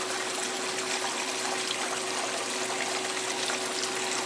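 A 1996 Maytag Dependable Care Plus washing machine draining water, heard as a steady, continuous rush of water with a faint constant hum beneath it and no talking.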